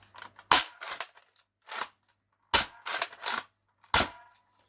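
Sharp plastic clacks and snaps come from the X Shot Pro Series Longshot toy blaster as its magazine is pulled out, several loud close bursts in irregular clusters separated by silence, with no voices.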